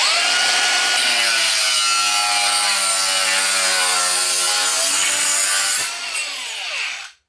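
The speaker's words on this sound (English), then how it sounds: "I'd hope to think that it can cut through aluminium nice and easy" Angle grinder fitted with a multi-material disc cutting aluminium trim, giving a loud, close, continuous high-pitched whine and screech that holds steady for several seconds before the cut ends and the disc winds down.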